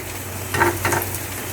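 Scrambled egg with tomato and onions frying in a pan, a close continuous sizzle with a few stirring scrapes of a utensil, over a low steady hum.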